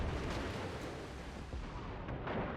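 Secondary battery guns firing aboard the heavy cruiser Atago in the World of Warships naval battle game: a dense, continuous rumble of booming naval gunfire with several heavier shots breaking through, loud and steady throughout.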